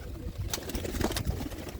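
Pigeons in a loft coo close by, soft throaty calls repeating over a steady murmur of background noise.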